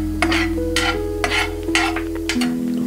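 Urad dal fries in hot oil in a pan and is stirred in quick rhythmic scraping strokes, with a low sizzle and steady tones humming in the background.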